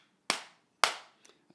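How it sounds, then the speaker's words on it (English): Two sharp, loud hand claps ring out close to a microphone in a quiet room, about half a second apart, each with a short decaying tail, followed by a couple of faint small clicks. "I clap three times"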